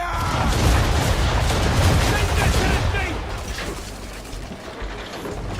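Ship cannons fire a heavy broadside in Assassin's Creed 3, a dense, loud barrage of booming blasts and rumbling reports packed together, easing slightly toward the end.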